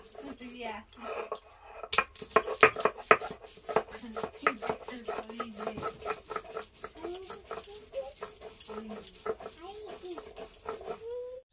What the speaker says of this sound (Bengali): তো এবার আমি এগুলো শিলপাটাতে বেটে নেব।